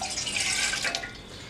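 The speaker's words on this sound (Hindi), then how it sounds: "इसमें मैंने डाला है 1 गिलास पानी।" A glass of water poured into a pan sitting on a gas stove, a steady close splashing stream lasting about a second and a half before tapering off.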